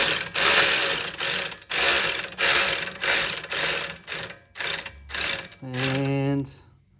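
A ratchet tightens a loose skid plate nut on a Honda CRF110 with repeated close, loud clicking strokes in a steady rhythm, ending with a brief hum.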